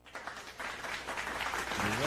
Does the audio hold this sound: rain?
no